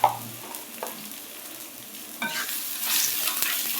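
Turmeric, chili powder and coriander frying with spices for egg bhuna, a low sizzle with a couple of spoon clacks, then louder stirring and scraping in the pan.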